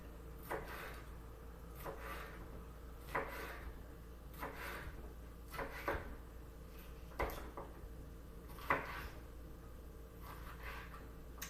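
A knife cutting a vegetable into long thin strips on a board, faint, soft thuds and slicing strokes recurring roughly every second or so over a low, steady background hum.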